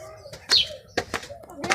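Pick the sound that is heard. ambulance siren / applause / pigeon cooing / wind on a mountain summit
pigeon cooing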